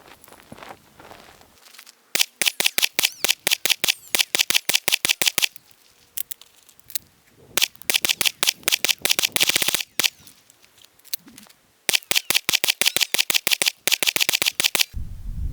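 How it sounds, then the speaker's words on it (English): A handgun fitted with a weapon light is fired in long fast strings of sharp, loud, close shots, several bursts separated by brief pauses, with no speech. "So let's go ahead and shoot."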